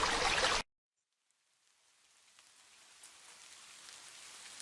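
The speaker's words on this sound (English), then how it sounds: "it begins to rain gently" Soft, steady rain patters on a surface, fading in from near silence and building gradually to a gentle, continuous hiss with scattered drops.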